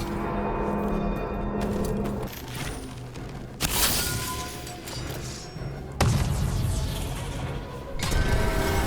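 A heavy chain mechanism releasing in Dragon Age, with grinding mechanical creaks and clanks and a few abrupt loud metallic jolts over a sustained droning background.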